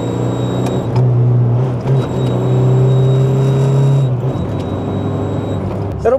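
A remapped turbocharged car with full exhaust and a roll cage, suspected of a boost leak between turbo, intercooler and intake, drones steadily up close, with a thin high whistle rising and holding over the engine rumble as boost builds.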